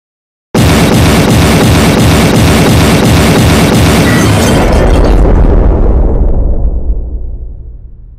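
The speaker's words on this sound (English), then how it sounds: "Prepare the gigantic explosion." A gigantic explosion sound effect hits abruptly after a moment of silence, very loud, with a dense rumbling roar and repeated crackling pulses, then a long low boom that slowly decays into a fading tail.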